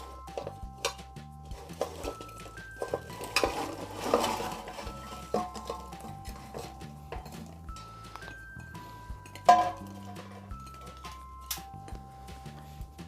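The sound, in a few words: gulab jamun balls being added and stirred into sugar syrup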